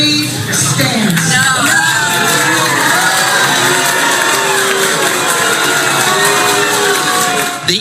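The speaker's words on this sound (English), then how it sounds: "The LA mayor hit with a chorus of hissing and boos." An agitated crowd at a Los Angeles public meeting boos and hisses at the city's mayor, a loud, sustained chorus of jeers, shouts and whoops filling the space without pause.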